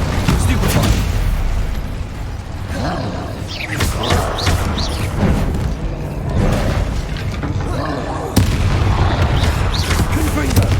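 The Stupefy spell cast in the Hogwarts Legacy video game, heard as a run of punchy booming bursts and whooshing impacts amid busy combat effects, with voices speaking at times.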